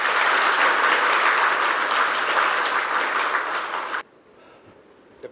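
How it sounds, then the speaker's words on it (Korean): An indoor audience applauds at a national fire industry promotion briefing, loud dense clapping for about four seconds that cuts off abruptly, leaving quiet room tone. "여러분 큰 박수 부탁드리겠습니다."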